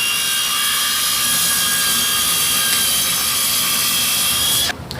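Ryobi power tool on a 4Ah HP battery cutting wood: a loud, steady, high-pitched motor whine runs close and continuously, then cuts off abruptly near the end.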